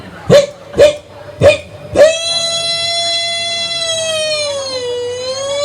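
A few close, loud barks from a dog come first, then an ambulance siren takes over as a steady, strong wailing tone that slowly rises and falls, at an outdoor Calonarang ceremony at a temple in Bali.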